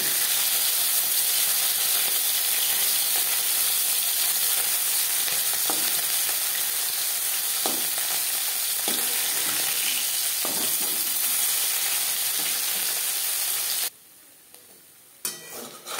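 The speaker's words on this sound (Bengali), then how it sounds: "মাছ একটা সাইড ভাজা হয়ে গেলে অপর সাইডটা উল্টে দেবো।" Puti fish fry in hot oil with a loud, continuous crackling sizzle that runs steadily for about fourteen seconds, then drops away suddenly, leaving only a few faint pops.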